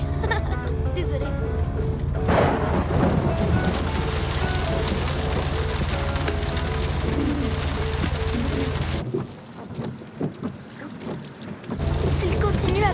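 Steady rain falls during a camping trip, a dense hiss that stays loud for most of the stretch, then briefly thins near the end before returning, with voices mixed in beneath it.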